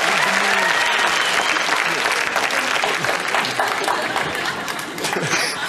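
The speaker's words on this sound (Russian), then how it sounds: "Аплодисменты!" Studio audience breaking into sustained, loud applause during a Russian comedy show, with scattered cheering and some voices mixed into the clapping throughout.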